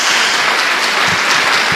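A church congregation breaks into full, continuous applause, a loud wash of many hands clapping together without pause.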